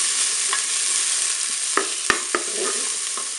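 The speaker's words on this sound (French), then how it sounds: "Je viens de mettre dans ma cuve les morceaux d'oignon." Onion pieces fry in oil inside a Cookeo pot, a loud steady sizzle with a few sharp pops and spoon knocks, close and alone.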